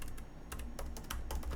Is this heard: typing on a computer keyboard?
yes